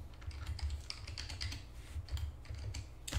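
Hands type a command on a computer keyboard under Pop!_OS, a quick, close patter of soft key clicks over a low steady hum, with no speech.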